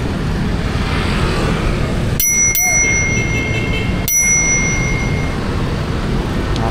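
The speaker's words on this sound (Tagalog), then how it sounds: "Angas ng busina natin," A bicycle horn on a climbing road ride, sounding two sharp, bright electronic blasts about two seconds apart, loud and close over steady wind and road noise.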